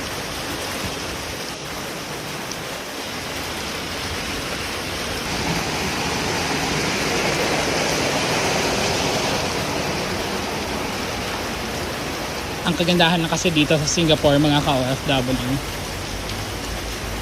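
Heavy rain pours down in Singapore, a dense steady hiss that swells slightly partway through, with someone talking over it near the end.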